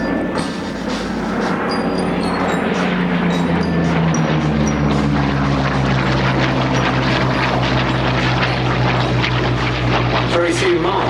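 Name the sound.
Hawker Hurricane Mk.I propeller aircraft engine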